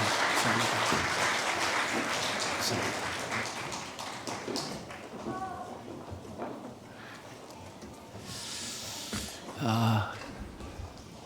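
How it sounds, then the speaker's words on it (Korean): Congregation applause in a church during a Christmas service, a broad wash of clapping that is loud at first and thins out, with voices talking and cheering faintly underneath. "다시 한번 뜨겁게 한번 박수 한번 더 주십시다"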